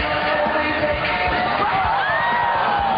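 A basketball crowd cheering and whooping at a halftime dunk show, dense and loud throughout with shouts and yells rising from the arena.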